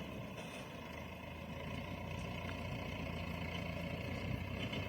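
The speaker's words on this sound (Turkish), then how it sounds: "Karşıda da bir traktör" A steady engine drones throughout, a low continuous rumble with a faint whine on top, holding an even pace with no voices.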